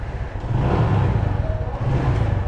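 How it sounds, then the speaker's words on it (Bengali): A TVS Metro Plus motorcycle engine runs close by, a low, throbbing idle with a slight rise and fall in loudness over a couple of seconds. "ওরে বাইকের সাউন্ড রে"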